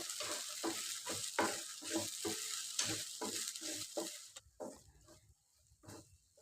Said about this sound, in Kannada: ಎಣ್ಣೆ ಕಾದ್ಮೇಲೆ ಮ್ಯಾರಿನೇಟ್ ಮಾಡಿದಂಥ ಸೋಯಾ ಚಂಕ್ಸ್ ಹಾಕ್ಕೊಂಡು ಮೀಡಿಯಮ್ ಫ್ಲೇಮ್ನಲ್ಲಿ ರೋಸ್ಟ್ ಮಾಡ್ಕೋಬೇಕು